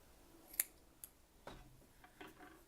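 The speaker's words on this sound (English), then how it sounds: "it is wicked up, so I'm just going to trim off the excess" Scissors snip excess cotton wick from a vape coil on an Ehpro Billow X RTA, a few faint, sharp cuts spaced apart in a quiet room.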